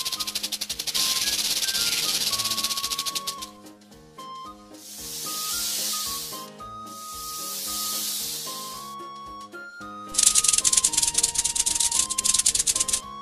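Cartoon snake sound effect for young children's animal show: repeated bursts of loud, breathy hissing, the last one a longer sustained hiss, playing over a bright musical backing with no talking.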